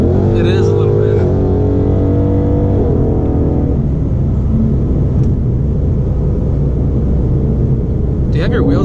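A 2018 Ford Mustang GT V8 engine drones steadily from inside the cabin while driving, its pitch rising and settling with throttle changes, with road noise beneath and people talking over it.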